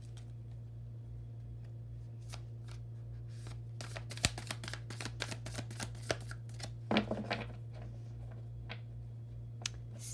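Sticky tarot cards are shuffled up close in bursts of quick, crisp taps and flicks, busiest in the middle, over a low steady hum with no talking.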